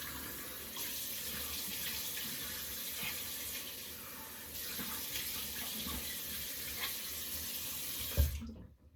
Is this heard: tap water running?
yes